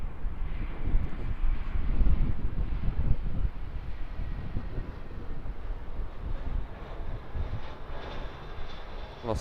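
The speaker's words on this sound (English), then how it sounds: "Jetstar Airbus A320" A Jetstar Airbus A320 jet airliner on a domestic flight at Auckland gives off a rumbling engine roar, stronger early on and gradually easing to a steadier, softer drone, with wind noise on the microphone.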